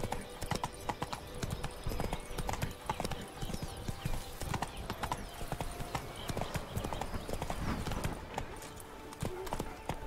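Horse hooves clip-clop steadily in The Witcher 3, a continuous rhythmic trot with the animal near and loud, a brief whinny possible amid the game's ambient sound.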